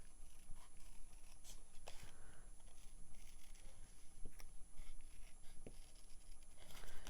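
Stampin' Up! paper snips fussy-cut around a paper design, giving soft, quiet snipping and rustling in an irregular rhythm as the paper is turned, close and faint.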